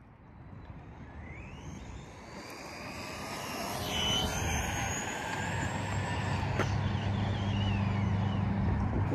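An Arrma Big Rock 4x4 version 3 RC car with a 20T pinion makes a speed run, its high-pitched electric motor whine rising and sweeping in pitch as it approaches and passes, growing louder over a steady outdoor background.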